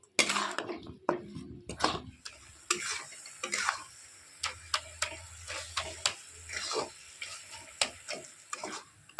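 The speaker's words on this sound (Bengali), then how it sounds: "এবারে ভালো করে কিন্তু এইভাবে নেড়ে তেড়ে জাল করে নেবো পাকা সব অবধি আমি এইভাবে নাড়তে থাকবো" Grated coconut for naru being stirred in a pan, with a steady series of scraping, tapping strokes over a soft sizzle and a low hum, close and moderately quiet with no one talking.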